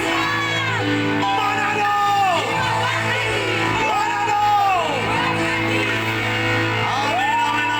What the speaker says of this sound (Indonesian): Sorak-sorak paling meriah bagi Tuhan.